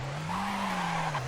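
Tires squeal and skid at length as a rear-wheel-drive JDM retro car with high power and little traction spins in the racing game CDID, a loud sustained screech over engine drone with no voices.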